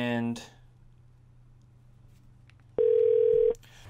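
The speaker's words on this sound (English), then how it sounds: "I'll click call, and it's going to come to my cell phone" Outgoing call placed from a softphone app for a business VoIP system, a short tone burst followed by a quiet hum and then a steady single ringback tone lasting under a second.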